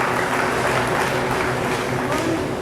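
Audience applause at a state fair junior heifer show, a dense continuous patter of clapping that stays loud and even from start to finish, with no talk over it.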